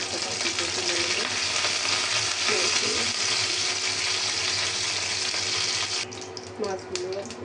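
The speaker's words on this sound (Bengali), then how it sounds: "এখন এই পাশটা আমি ভালো করে ভেজে নেবো।" Snakehead fish fries in a pan with a steady, close hissing sizzle throughout, joined near the end by a few clinks and stirring sounds.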